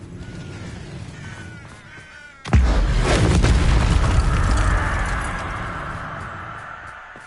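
A Bombarda spell detonates inside a cave in a Hogwarts video game: a sudden heavy boom after quiet ambience, followed by a rumbling, crackling tail that slowly fades.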